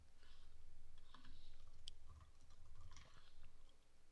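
A computer keyboard being typed on, with a short run of soft, close key clicks in a quiet room.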